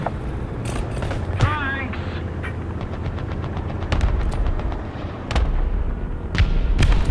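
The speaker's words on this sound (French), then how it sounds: "Tir d'artillerie." Artillery shells and gunfire in the tank game World of Tanks, heard as a run of loud bursts and rapid cracking shots, with a French-speaking voice talking over the combat.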